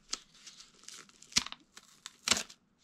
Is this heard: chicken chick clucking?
no